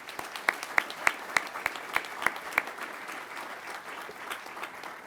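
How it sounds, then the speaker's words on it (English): Sustained audience applause at an Undergraduate Pilot Training graduation ceremony, in honor of the flight instructors: many hands clapping together, steady and moderately loud, with a few sharper claps standing out early on. "join me in a round of applause for all of our instructors"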